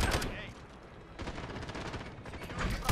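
Gunfire in Call of Duty Modern Warfare on the Shipment map during a Domination match, with loud close bursts of automatic shots separated by brief lulls and a burst of shooting at the very end.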